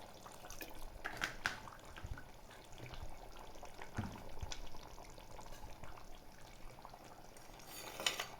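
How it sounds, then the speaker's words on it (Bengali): Water trickles and splashes faintly into a pan of cooking chicken masala in a quiet kitchen, with a few small drips and clinks. "এবার আমি জলটা দিয়ে দিই সুন্দর করে"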